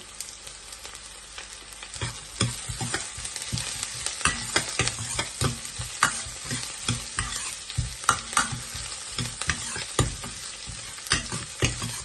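Onions sauté in a pan as the base for a stingray curry, with a steady oil sizzle and repeated, rhythmic clanks and scrapes of a spoon stirring close by. No voices can be heard.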